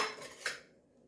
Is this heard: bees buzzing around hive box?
no